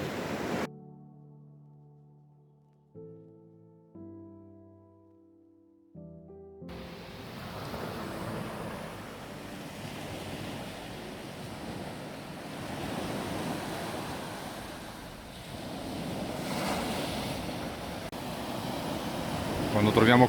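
Sea swell waves breaking along the Paraggi coast in Liguria, a steady loud wash of surf and wind filling most of the clip after a short passage of tonal music at the start.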